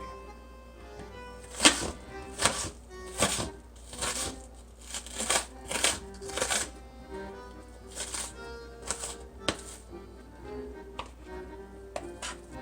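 A kitchen knife dices an onion on a cutting board while making Argentine salsa criolla. Close, sharp chops come in irregular bursts, sometimes rapid and sometimes paused, for over twelve seconds, with no talking.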